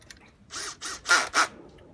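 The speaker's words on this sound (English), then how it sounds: "try a smaller drill bit" A small power drill with a small drill bit buzzes in four short bursts, the last two louder, close up with quiet pauses between.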